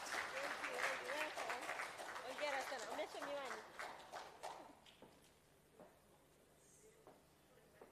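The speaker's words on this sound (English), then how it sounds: "Another applaud for her, please" Clapping from a crowd at an international conference rings out for several seconds, then fades to quieter scattered sounds and room noise.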